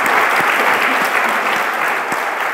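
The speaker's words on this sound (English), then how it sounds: "I'd like to give a round of applause to the Rust LATAM organizers for making this happen" A conference audience at Rust LATAM applauds the organizers, loud close clapping from many hands that stays dense and steady, tapering slightly near the end.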